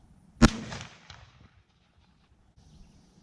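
A shotgun firing a HEVI Steel 3.5 inch number 2 shell outdoors: one loud, sharp report that decays quickly into a short echoing tail, then quiet.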